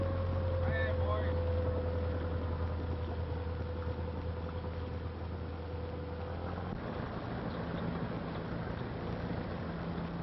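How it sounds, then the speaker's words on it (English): In a 1933 film scene near a reef at night, a motorboat engine drones low and steady beneath a constant hum. Its tone shifts partway through, and muffled talk is heard briefly early on. "Could be a motorboat."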